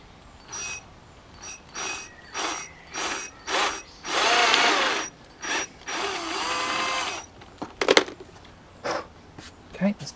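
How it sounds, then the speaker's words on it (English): A power drill whirs in two sustained bursts, drilling holes in a Jeep Wrangler JL tailgate to fit a table shelf, between short mechanical clicks and taps, with a voice speaking briefly nearby. "let's pop a drill through there. So let's drill those holes."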